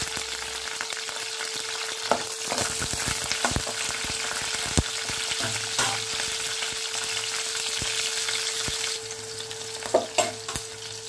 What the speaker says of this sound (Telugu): ఇప్పుడు పచ్చిమిరపకాయలు వేసి వేపుకుందాము